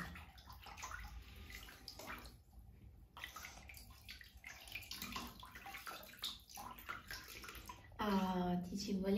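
Warm water splashes and sloshes as a black cat is bathed in a tub, with intermittent gentle splashing and a running tap while someone talks softly to the cat throughout.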